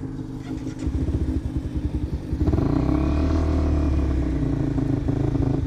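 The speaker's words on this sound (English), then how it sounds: "her bike dying without throttling it a little bit" A motorcycle engine that stalls unless throttled, idling with a rough, rapid chug before being revved up into a louder, sustained roar, heard close by with no talking.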